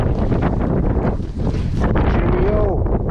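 Strong side winds buffet the microphone while riding a bicycle on a gravel road in Patagonia, Argentina, making a loud, continuous roar and rumble with gusty swells throughout and no pause.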